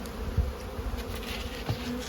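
Honeybees hum steadily at an open hive during brood-chamber work, a dense continuous drone close up with a few soft knocks and no voices.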